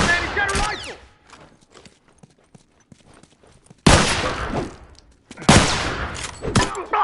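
Rifle gunfire in the video game The Last of Us: a loud burst at the start, a long near-silent gap, then two heavy stretches of firing close together near the end.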